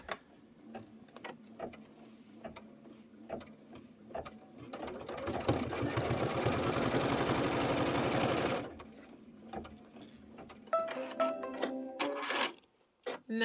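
An embroidery machine stitches the side of a Kimberbell pillow block, a rapid mechanical whirring run of several seconds bracketed by intermittent ticks and clicks before and after.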